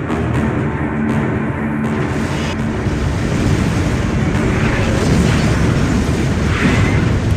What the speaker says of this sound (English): impressive explosion for a 7-year-old game.